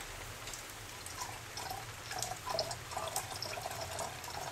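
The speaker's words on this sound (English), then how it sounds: "now I'm going to take our used solution and pour it off here" Used acid peroxide solution from gold recovery pours out of a jug in a steady, faint watery trickle with light splashing and dripping, no voices.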